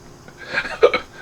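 A man hiccups after eating pork rinds, giving two or three short, close, voiced bursts in quick succession with a faint vocal quality.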